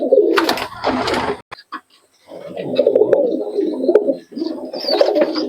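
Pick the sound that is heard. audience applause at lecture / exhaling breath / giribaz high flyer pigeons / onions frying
giribaz high flyer pigeons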